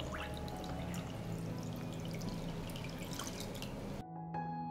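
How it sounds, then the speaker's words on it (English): Water is poured into a pot lined with a cloth and holding glass jars, a steady splashing, trickling stream heard up close and alone, then cutting off abruptly near the end into quieter drips. "I pour water into the pot up to the height of the lid."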